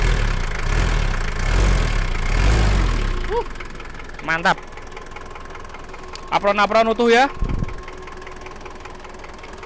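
A 1988 Daihatsu Taft GT jeep engine idles with a low, steady rumble for the first few seconds, then someone talks briefly over the quieter background.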